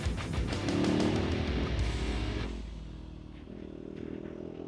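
Motorcycle engine running close by, a rough throaty rumble that rises and then eases into a lower steady idle; no talk.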